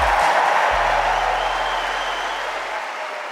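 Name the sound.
Wimbledon crowd applauding Rafa Nadal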